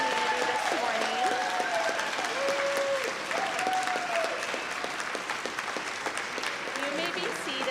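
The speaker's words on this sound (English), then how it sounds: "This is a time for applause, because with great joy we welcome these new members of our community this morning." A church congregation at a Sunday morning service applauds to welcome new members, a steady, dense wash of clapping from a large crowd that goes on throughout, with voices murmuring underneath.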